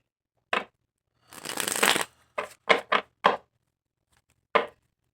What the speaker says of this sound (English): cards are too loud for you, and I apologize for the hearing or the sound